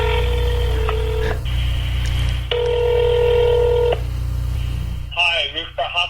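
A telephone number being dialed, with distinct tone bursts in short sequences followed by a burst of voice at the end.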